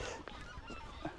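Geese fly over a reed-choked river in early spring, honking faintly in the distance with several short, uneven calls over quiet outdoor ambience.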